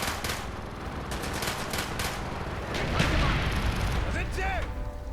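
During a battlefield mission in Call of Duty: Black Ops, a mortar fires amid continuous gunfire and crashing blasts, with a heavy thump near the middle and whistling debris after it, all loud and dense.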